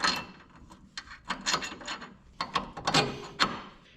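Ratchet clicks in short irregular bursts as bolts are tightened on the suspension of a 1979 Chevy Luv truck, close and moderately loud, with brief pauses between runs and no talking.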